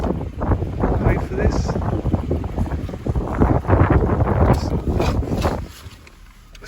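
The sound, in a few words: wind blowing on the microphone outdoors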